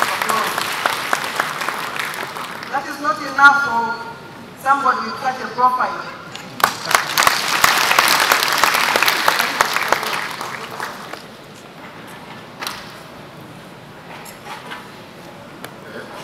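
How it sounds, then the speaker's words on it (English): Audience applause for a guest professor at a presentation event, a burst of clapping rising around the middle and fading, with a speaker's voice talking before and over it. "Can we please give him a round of applause?"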